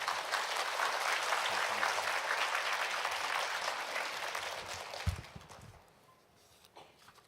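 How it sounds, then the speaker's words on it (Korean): Congregation applause at a Baptist church weekday midday service in Seoul, a dense crowd clapping steadily and loudly for about five seconds before tapering off into quiet room tone with a few scattered knocks. "나오실 때 다시 한번 환영과 감사의 박수 부탁드리겠습니다."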